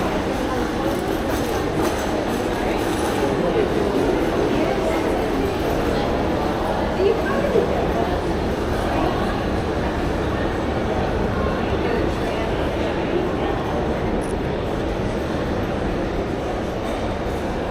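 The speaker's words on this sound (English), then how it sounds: "this is Flinders Street, the iconic Flinders Street train station." Busy city bustle at Flinders Street train station in Melbourne, a dense unbroken wash of rail and crowd noise with muffled voices mixed in, loud and steady throughout.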